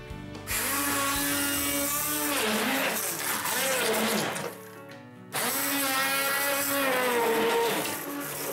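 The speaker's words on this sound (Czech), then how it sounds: "A teďka rozmixujeme tyčovým mixérem do hladké směsi." Stick blender whirring through pizza dough mixture of egg whites and pizza seasoning, a loud steady buzz running for several seconds, cutting out briefly, then starting again.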